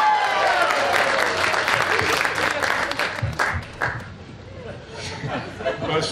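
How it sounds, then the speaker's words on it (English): A festival crowd applauds a Chinese linking rings magic trick at a cowboy festival, giving loud close clapping mixed with chatter and a chuckle, then fading to scattered claps. "an intelligent crowd will break into spontaneous applause."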